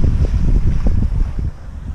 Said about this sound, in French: Et nous sommes sous voile